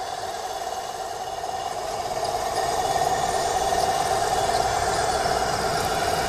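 An RC Bulldog tank's engine sound runs as a steady, loud mid-pitched drone with a faint rattling texture, swelling slightly partway through and heard alone and close.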